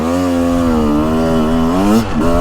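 A two-stroke dirt bike, a 2023 Husqvarna TX300 or Beta 300 Race Edition, revs loud and close on a woods loop. Its buzzing engine note holds steady, then dips briefly near the end, with no talk.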